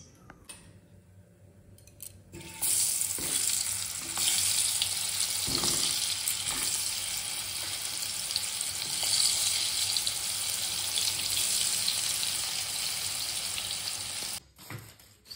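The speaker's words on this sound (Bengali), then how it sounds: "পটলটা মেখে এবার" Pointed gourd slices frying in a kadai in a home kitchen: a loud, steady sizzle that starts abruptly and holds for about twelve seconds, with faint clatter underneath, then cuts off near the end.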